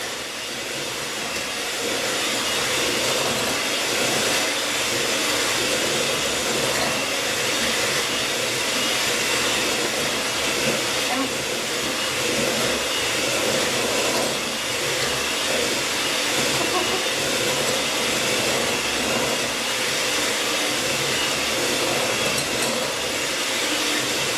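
An electric mixer whirs continuously and fairly loudly through batter with flour for about 24 seconds, a steady, even hissing drone without pauses.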